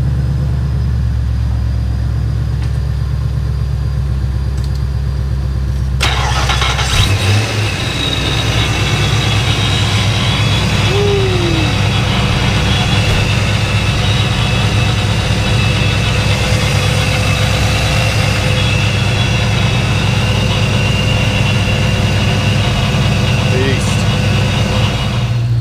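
A Shelby GT500's engine idles with a loud, continuous rumble. The sound shifts abruptly around the seventh second and then holds a steady, heavy drone to the end.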